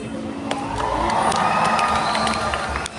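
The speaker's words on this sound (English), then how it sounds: "Will you guys give her a cheer when you see her" Stadium crowd at SeaWorld Orlando cheering for a killer whale named Nalani, a sustained roar of shouts and children's squeals with sharp splashes and whoops scattered across it.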